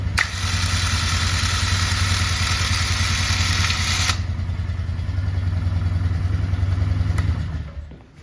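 A Harbor Freight Badlands ZXR 3500 winch mounted on a 2000 Polaris Sportsman 500 runs out and reels back in. Its loud, steady motor whine and drone lasts about seven seconds with a shift partway through, then stops.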